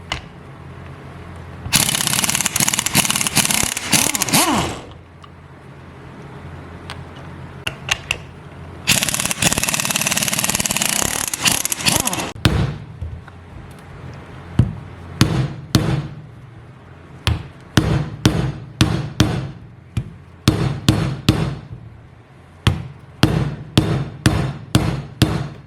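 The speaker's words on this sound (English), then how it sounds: "So that's going to pop the ring gear off of here." Metal-on-metal hammering while removing the ring gear from a Ford 9 inch Posi Traction carrier in a workshop: sustained loud clattering bursts, then a long run of sharp, separate strikes at an uneven rhythm, close and loud.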